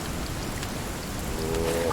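Steady rain hiss in the survival game Sons of the Forest, a dense broadband wash running throughout at even volume, with a faint tonal hum rising near the end.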